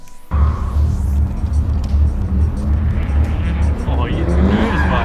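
A car drifts on a skid pan at a track day, its engine roaring loud and close with a rising rev sweep near the end, while a person talks over it.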